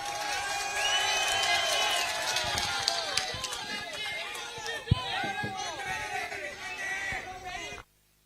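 A large crowd at a Tamil Nadu political rally cheers and applauds in welcome, a dense, loud, steady roar of voices and clapping with occasional sharp bangs, ending abruptly.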